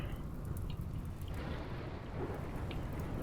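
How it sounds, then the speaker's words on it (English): Steady rain and rumbling thunder from the game Rimworld, a dense continuous wash of rainfall with deep low rolls, moderately loud and without talk throughout. "And here comes the rain."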